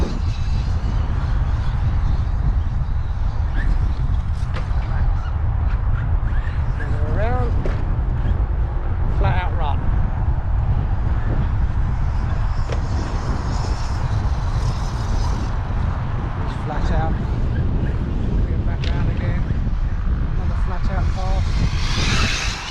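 Arrma Mojave EXB RC car on a speed run, its electric motor whining continuously and loudly as it accelerates and runs along the track, with someone talking over it.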